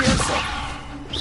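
A Levioso levitation spell cast in Hogwarts Legacy on PS5: a sharp whip-like swish and whoosh, loud and close, filling the brief moment without talk.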